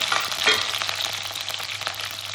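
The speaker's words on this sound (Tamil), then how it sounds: "கடுகு போட்டுட்டு வெங்காயத்தை போட்டுக்கலாம்." Mustard seeds and onions fry in hot oil with a loud, close, continuous hiss and crackle, steady throughout with small popping bursts.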